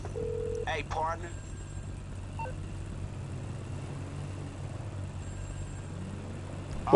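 A phone in the video game GTA Online rings with a short electronic ringtone, a few tonal chirps over a low engine hum, with game speech around it.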